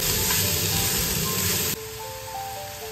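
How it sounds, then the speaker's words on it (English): Chopped onion sautéing in coconut oil starts with a loud, broad hissing sizzle that suddenly drops to a quieter, steady frying sound partway through. "Then goes in the chopped onion and saute till soft."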